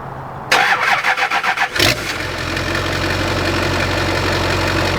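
A car engine cranks with a rapid rhythmic churning for about a second, then catches and settles into a steady, loud idle.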